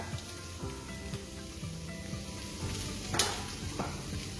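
Onion frying in a pan for stuffed butternut squash, a soft steady sizzle throughout with a brief clink of a utensil near the end; close but fairly quiet, no voices.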